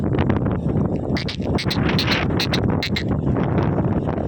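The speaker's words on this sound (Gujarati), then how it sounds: "અત્યારે વરસાદ ઝીણો ઝીણો ચાલુ છે ને બાકી પવન જીકું મારે છે" Gusty wind buffets the microphone in a continuous rush, with faint scattered patter of light rain mixed in.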